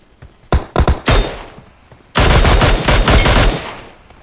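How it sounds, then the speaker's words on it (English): Gunfire in PUBG Mobile: three or four sharp separate shots, then a sustained loud burst of automatic fire lasting over a second and fading out, with no talk. "Wait, who's shooting?"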